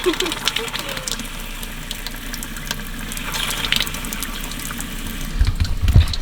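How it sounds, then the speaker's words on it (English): Water running from a van's shower as the water tank drains: continuous running water splashes steadily over a low mechanical hum, with some faint background activity near the end. "we're just gonna drain our entire water tank because we are excited"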